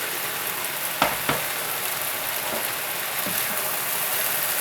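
Pangas fish eggs fry in a pan with a steady hissing sizzle, broken near the start by a couple of sharp knocks or clacks and a few softer clinks later.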